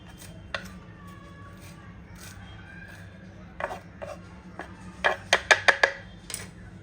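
A knife chops fresh coriander leaves on a board, giving a few scattered taps and then a quick run of five or six crisp cuts toward the end, close and fairly quiet over a low background hum.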